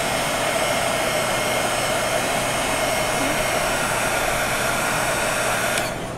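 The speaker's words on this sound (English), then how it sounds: "But I'll just give it a quick blast with the heat tool to speed things along." A heat tool blows steadily to dry gold embossing paste, a loud, continuous whooshing roar like a hair dryer that runs for about six seconds and dips slightly at the end.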